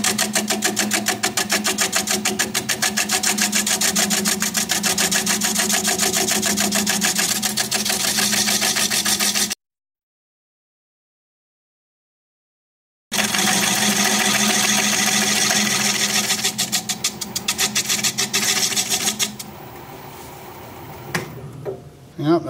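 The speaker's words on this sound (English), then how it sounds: "Now I'm going to take a 3/8 inch hole gouge and start removing the recess." A wood lathe spins while a 3/8 inch hollow gouge cuts a recess, giving a steady close whirring hum with rapid cutting chatter. It stops abruptly for a few seconds, then resumes and fades toward the end.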